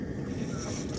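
Water sprays from a perforated hose onto birds inside a 1.5 HP chicken plucker, a brief, steady, close hiss of spray with no talk.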